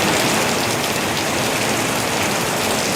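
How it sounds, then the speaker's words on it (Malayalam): Heavy rain pours steadily in Palakkad, Kerala, a dense, continuous hiss of drops drumming on surfaces close by, unbroken and loud for the whole stretch with no voices. "ജില്ലയിൽ പരക്കെ ശക്തമായ മഴ ലഭിക്കുന്നുണ്ട്."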